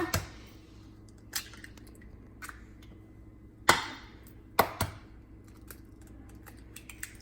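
Three eggs cracked into banana bread batter: a few sharp taps and cracks of shell spaced irregularly, then wet squishy drops, fairly close and quiet in a still kitchen.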